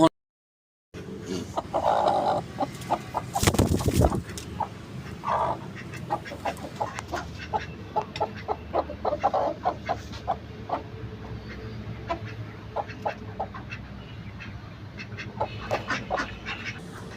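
A broody hen settled on eggs gives repeated low clucks and short croaks, close by, amid scattered clicks and rustling with no talking.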